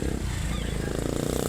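A motorcycle passes beside a car in traffic, its engine a low, steady droning rumble heard from inside the vehicle.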